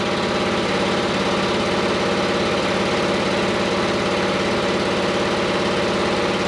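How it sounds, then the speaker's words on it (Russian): A BMW i3 REx range extender, a two-cylinder motorcycle-type petrol engine, runs to charge the car, giving a steady, loud idling drone with a constant low throb throughout and no talking. "Запустился двигатель для зарядки."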